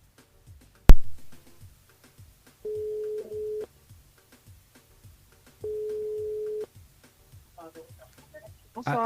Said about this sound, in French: Le temps que m'y compose le numéro Audrey